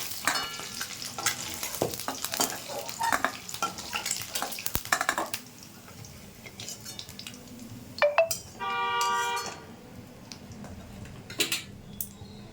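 Chopped onion and whole spices (cinnamon, cardamom, cloves) frying in hot oil for a spicy egg curry give a close sizzle with scraping stirs and clicks, dying down to faint crackle, then a brief tonal beep and more stirring.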